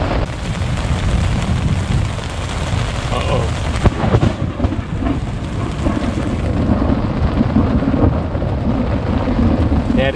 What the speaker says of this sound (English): That is lightning hitting trees.